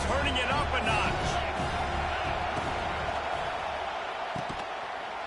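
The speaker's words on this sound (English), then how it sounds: "this crowd is turning it up a notch" A football stadium crowd at a Penn State versus Tennessee game, a dense roaring wall of noise that stays loud and sustained throughout, heard at a distance.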